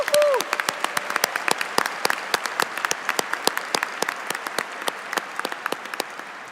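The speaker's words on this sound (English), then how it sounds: "So a big round of applause to all of them." Applause rings out at an in-person university undergraduate commencement ceremony, a dense crowd of clapping hands with distinct sharp claps over a steady wash, with a brief cheer at the start and slowly fading.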